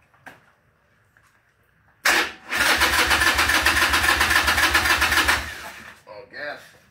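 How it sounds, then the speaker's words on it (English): A barn-find Harley-Davidson motorcycle engine cold-starts with the choke out in neutral, catching abruptly and running loud and close in a rough, rapid, pulsing idle for about three seconds before dying away, followed by brief talk. "This is a true cold start."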